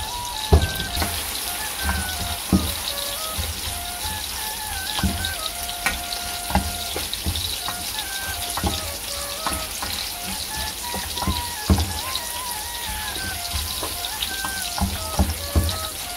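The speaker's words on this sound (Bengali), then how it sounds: "এদিকটা আমার মাছ ভাজি হচ্ছে" Fish fries in a pan with a steady, close sizzle and crackle, punctuated by occasional clinks and knocks, while soft background music plays.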